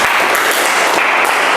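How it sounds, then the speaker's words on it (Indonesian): Brief burst of dense, loud clapping from a group in a classroom or teaching session, filling the whole short moment without pause. "tepuk tangan untuk si Yuli"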